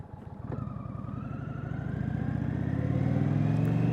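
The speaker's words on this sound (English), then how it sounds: "this engine is very, very peppy" A Springfield Darkhorse motorcycle engine pulls away with a rapid, throbbing beat that climbs steadily in pitch and loudness, close and clear with no talk.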